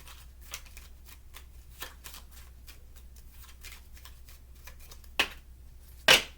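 Oracle cards are shuffled close by with soft, rapid riffling ticks, then two sharper snaps as a card is pulled out for a moon reading. No one talks.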